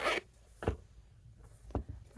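Zipper pulls open on a Lochby pocket journal case, close and crisp, in several short raspy bursts separated by quiet gaps, with no talking.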